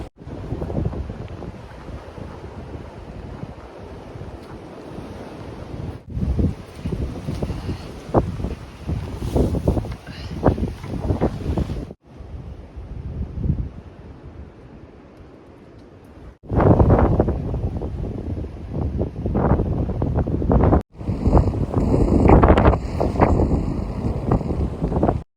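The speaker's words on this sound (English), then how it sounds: "We're in a wind advisory all day today." Strong wind gusts buffet the microphone on an exposed Appalachian Trail ridge, roaring loudly in uneven surges with a quieter lull in between and no talking.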